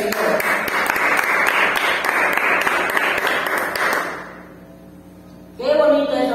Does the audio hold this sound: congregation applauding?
yes